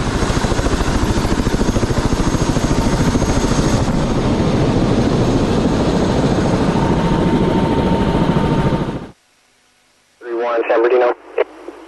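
Rescue helicopter during a desert hiker rescue in Joshua Tree National Park: a loud, steady rotor and engine drone with rhythmic blade chop fills most of the clip, then cuts off abruptly, followed by brief radio-like voices.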